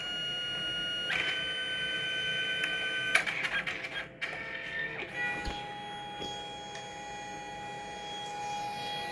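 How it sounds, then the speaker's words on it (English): A photo printer working through a scrapbook picture: mechanical whirring and feed motor runs, with a few clunks and tonal motor whines, steady and fairly close, no voices. "my picture is being read through the printer"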